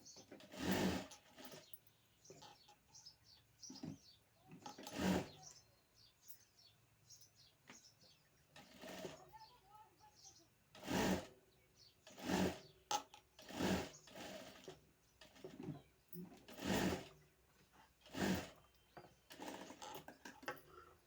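A sewing machine stitches a full square along the back neck of a boat neck blouse, running in repeated short bursts with pauses between them, fairly close, with faint bird chirps in the background.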